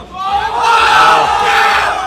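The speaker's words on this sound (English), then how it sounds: "The crowd's super excited." A packed esports crowd at an FGX 2015 Super Smash Bros. Melee match, Ice Climbers against Falco, bursts into a loud swelling roar of cheers and yells that peaks midway and holds strong to the end.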